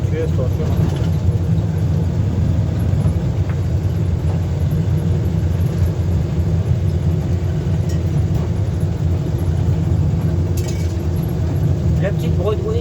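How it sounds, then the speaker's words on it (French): A small Broadway car driving along, its steady low engine drone and road rumble heard from inside, continuous and fairly loud, with people talking over it. "Regardez-moi ça, cette petite Broadway qui roule."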